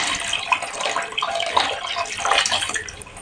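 Rinse water from a mixie jar is poured into a simmering mushroom gravy, giving a continuous close splashing gurgle for a few seconds.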